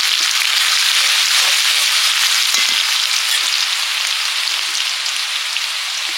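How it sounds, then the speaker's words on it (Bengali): Prawns frying with garlic in a pan, a loud, continuous close sizzle with faint crackles and stirring, no voices. "রসুনের সঙ্গে চিংড়ি মাছটা ভেজে নিচ্ছি"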